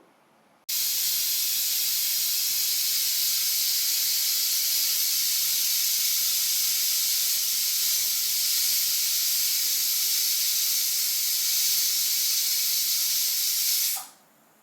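A loud, steady hiss of steam venting from a pressure cooker of spinach dal after four whistles, continuous and close for over ten seconds before cutting off abruptly.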